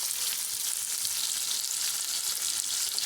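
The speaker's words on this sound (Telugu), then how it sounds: "ఆనియన్ గోల్డ్ కలర్ వచ్చేవరకు ఫ్రై చేసుకుందాము." Onions, green chilies and fennel seeds frying in a pan, a continuous even hiss of hot oil at moderate level with no voices.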